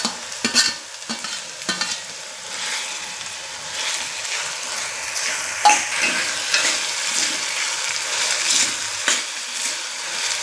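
Onion and tomato sizzle in oil in a pan, close and steady, with scraping and clacking from the spoon as it turns them in irregular strokes throughout.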